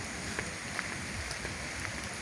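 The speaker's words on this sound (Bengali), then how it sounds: "বৃষ্টির দিনে বৃষ্টিতে ভিজতে ভিজতে বাড়ি যাচ্ছি" Rain falls at night on a village road, a soft steady patter with scattered light drips, fairly faint and close, with no voices.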